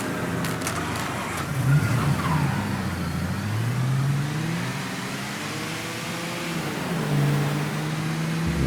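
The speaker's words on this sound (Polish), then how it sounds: "samochód Lincolna ma dużo lepszy dźwięk, więc po prostu będę najczęściej jeździł jego samochodem" Car engine accelerating in the Mafia III video game, revving up through several gear shifts with rising and falling pitch, loud and close, with no talking.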